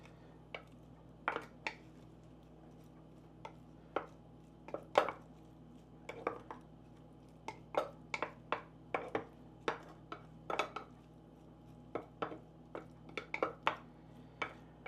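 Seasoned shrimp with cracked pepper and pepper flakes are tossed in a pan for Shrimp Clemenceau, giving irregular clinks and scrapes of utensil against cookware over a low steady hum.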